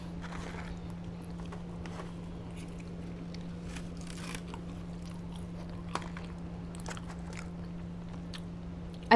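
Raising Cane's fries are chewed close to the mic in a series of soft bites and crunches over a low steady hum, with a sharper clack near the end.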